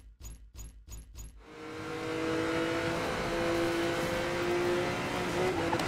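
Racing car engines roar steadily in a PC racing game after a few quick clicks, a sustained loud whine and rumble filling the rest with a faint tonal hum.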